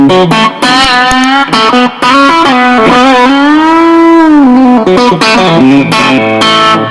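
Overdriven electric guitar through a vintage tube amp plays a loud, gritty melodic phrase with bends and a long sustained note, the crunchy distortion constant throughout.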